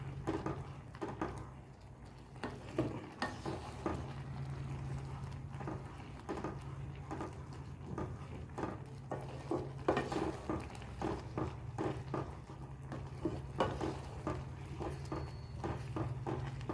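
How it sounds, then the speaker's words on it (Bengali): Carrot halwa thickening as milk reduces in a pan, stirred with a spoon that scrapes and taps the metal in a loose, irregular rhythm over a low, soft bubbling; quiet and close. "এবার একবার নেড়ে দিই।"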